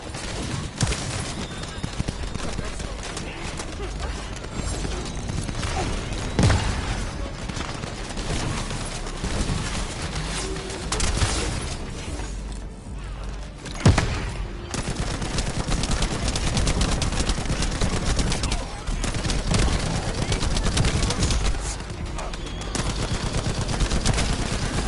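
Sustained gunfire from a weapon in The First Descendant shooter game: rapid automatic shots roar almost continuously with a few heavier bangs, while a voice talks underneath.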